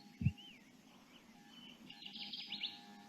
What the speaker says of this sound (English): that little song right there is the Kirtland's warbler